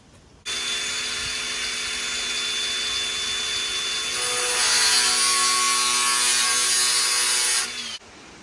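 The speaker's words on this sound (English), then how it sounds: "I've done a lot of grinder work, so I'm confident I can cut that straight." Angle grinder slicing through Crimsafe stainless security screen door mesh, a steady close, loud whining cut that runs continuously for about seven seconds and grows harsher midway before stopping abruptly.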